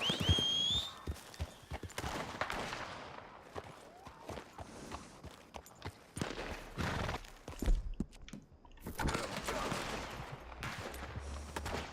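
Hooves clip-clop at a gallop in the video game Red Dead Redemption 2, amid bursts of gunfire, with a horse whinny and some talking mixed in, busy and uneven.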